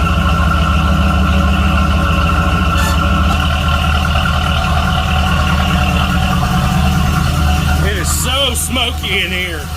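A 1986 IROC Camaro engine runs loud and steady with a deep low rumble throughout, fresh from a new wiring harness install, and a voice speaks briefly over it near the end.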